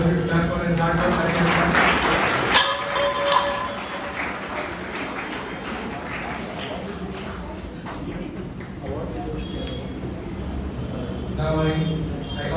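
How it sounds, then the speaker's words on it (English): An audience at a school felicitation ceremony applauds steadily throughout, with a crowd-like clapping texture and some voices mixed in underneath. "I would all of you clap for his hard work."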